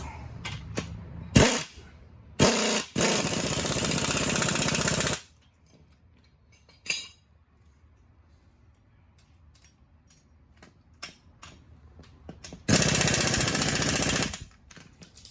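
A bolt and nut being tightened on a leaf spring during a leaf-adding job: several loud, close rattling mechanical bursts of a second or two each, with one longer run and quiet pauses between them.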